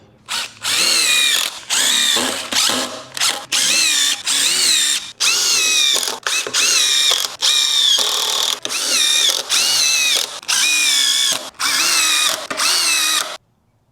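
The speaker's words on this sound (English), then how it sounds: "Now we put some screws in it." A power drill drives screws into a wooden bed dolly built for a 1967 C10 pickup: about a dozen loud, close whirring bursts of one to two seconds each, separated by brief pauses, with no voices.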